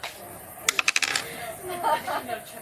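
Dice thrown onto a hard surface give a quick run of sharp clattering clicks, bouncing and settling in under a second, followed by quieter shuffling with a voice speaking softly nearby.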